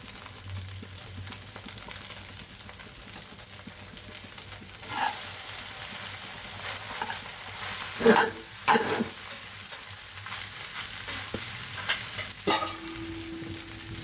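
Maggi noodles being stir-fried in a pan with little oil: a steady low sizzle broken by scattered scrapes and clinks of a utensil, with a cluster of sharper stirring knocks midway, close and subdued, without speech.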